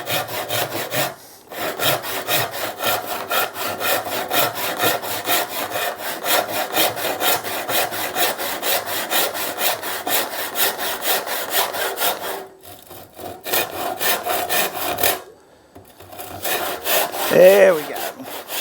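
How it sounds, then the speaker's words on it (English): A hand saw cutting through hard timber for a chopping board, close rhythmic rasping strokes at a steady rapid pace, pausing briefly a few times before resuming, with no talking. "Start to cut off. It's pretty hard, this timber, so we'll see how we go."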